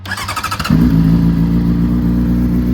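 A 2008 Honda CBR600RR motorcycle starter cranks rapidly for a moment, then the engine catches and roars loudly up close, settling into a strong, throbbing rev.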